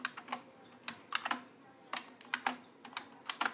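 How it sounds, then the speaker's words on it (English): Someone types on a computer keyboard with one hand while working in a text editor, producing irregular clusters of sharp key clicks, close and fairly quiet, with no talking. "typing with one hand here"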